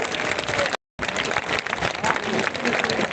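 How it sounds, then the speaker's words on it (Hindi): A large crowd at a conference of shiksha mitra teachers bursts into loud, sustained applause welcoming MLC Pawan Singh, dense clapping filling the whole stretch apart from a brief cut-out. "आप जरा जोरदार तालियों बजा के स्वागत करिए।"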